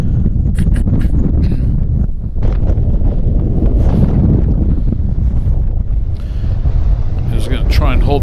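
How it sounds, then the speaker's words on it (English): Powerful hurricane-force wind roars and buffets the microphone on an open viewing platform at Meteor Crater, a loud, continuous rumbling gust with brief lulls, overlaid by a voice talking. "This is crazy windy."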